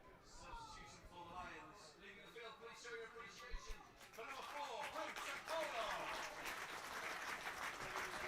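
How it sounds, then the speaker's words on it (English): Home fans at a non-league football match giving a warm round of applause for a substituted player, distant crowd clapping that swells partway through, under a commentator's voice. "getting a warm round of applause from the home fans"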